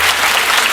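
A television studio audience in 1970 applauds a contestant couple, a brief continuous patter of many hands clapping at close range.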